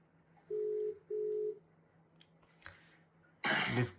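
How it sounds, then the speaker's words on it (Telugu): A phone call rings out as two short, steady beeps of ringback tone in quick succession, followed by a quiet pause and then a loud cough close by. "భరత్కి ఫోన్ చేద్దాం గైస్. భరత్ ఫోన్ అవుతుంది."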